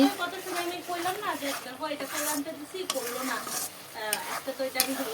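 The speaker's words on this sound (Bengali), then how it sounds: "মশলা টমেটোর সাথে এখন ভালো করে কষিয়ে নিয়েছি" Spices and tomato sauté in a pan with soft sizzling and a spoon stirring and scraping through the mix, while someone talks over it the whole time.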